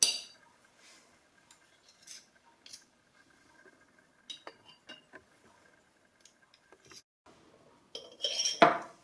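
A teaspoon faintly clinks and scrapes against dishes while lemon curd is spooned into small tart cases, with scattered light taps and a louder clatter at the end.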